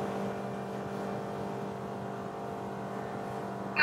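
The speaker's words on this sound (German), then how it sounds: "ich sitze jetzt genau beim Motor" A loud engine drones steadily at close range, a constant low hum with tonal whine and no pauses.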